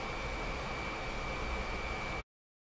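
Recorded vacuum cleaner noise played back through acoustic analysis software, a steady broadband whooshing roar with a thin constant whine on top, which stops abruptly after about two seconds and leaves silence.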